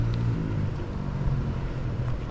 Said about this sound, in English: I hear someone riding their motorcycle or four-wheeler